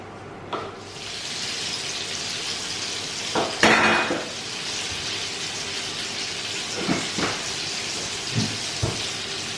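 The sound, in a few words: cheese balls frying in a pan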